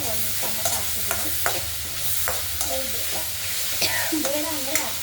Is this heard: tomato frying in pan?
yes